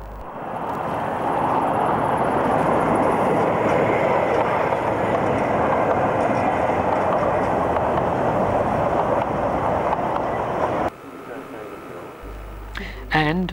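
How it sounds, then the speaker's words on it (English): A steam train on the 750mm narrow-gauge Rügen Island line in eastern Germany in the early 1990s, a loud, steady rushing roar lasting about eleven seconds before cutting off abruptly. "The 750mm gauge Rügen Island line operates two very distinct loco types."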